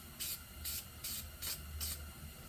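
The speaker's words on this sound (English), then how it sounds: "Just kind of spray it on there." Five short hissing bursts from a spray can of oil onto an ATV air pre-filter, evenly spaced about a half second apart, close and fairly quiet over a low background hum.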